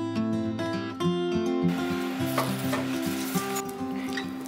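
Blended gravy for zucchini ball appetizers heats and sizzles in a pan with occasional stirring, a soft steady hiss mixed under continuous tonal background music.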